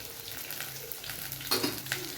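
Small shallots and garlic sauté in oil, a faint, close hiss of frying with a couple of quick stirring scrapes and light clinks.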